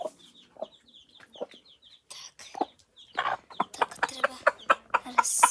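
Five newly hatched chicks cheep in high, rapid peeps among clucking hens as they are fed, growing busier and louder toward the end.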